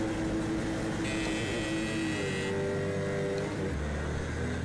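Race car engine in Project Cars 2 at the Nürburgring, a loud continuous drone whose pitch climbs and shifts through gear changes, with other cars audible around it.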